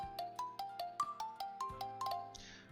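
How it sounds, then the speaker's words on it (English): A phone ringtone from the visual novel 9-nine- plays alone as a bright, repeating electronic melody of short tonal notes over a steady low accompaniment, ending in a brief rising chime. "My phone starts buzzing. I wouldn't call that buzzing, more like humming or ringing."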